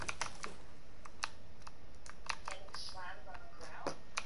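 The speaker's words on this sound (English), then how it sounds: "That's how my keyboard sounds." Quick clicks of a computer keyboard, irregular taps near the microphone, with a person speaking over the typing.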